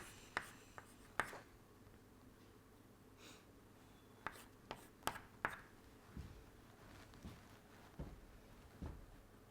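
Pen or chalk writing during a diesel cycle lecture, a series of short scratchy strokes and taps in irregular rhythm, quiet and close with no talking.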